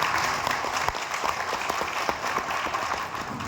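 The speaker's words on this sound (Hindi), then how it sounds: "जोरदार तालियां हो जाए गुरुदेव के लिए।" An audience at a network marketing event breaks into sustained applause, dense clapping from many hands carrying on steadily for several seconds, a little distant and without speech.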